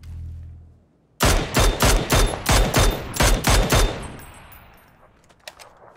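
Gunfire in the battle royale game PUBG: a quick run of about ten loud, evenly spaced shots that stops abruptly, then a faint tail and a few quieter distant pops, with no talking.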